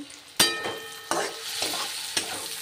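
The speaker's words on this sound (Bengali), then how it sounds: "সয়াবিনটাকে সেদ্ধ করে একটুখানি নেড়ে নিলাম, আর আলুটাকেও ভেজে নিলাম।" Soybean chunks, potato and capsicum fry and get stirred in a pan: a steady close sizzle broken by three or four sharp scraping strokes of the spoon, with no talking.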